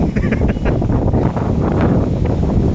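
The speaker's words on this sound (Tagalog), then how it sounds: "Hirap mag-camping, ang lakas ng hangin." Strong, steady wind roars and buffets the microphone with constant low rumble, dense and loud throughout, with faint rustling mixed in, at a beach campsite.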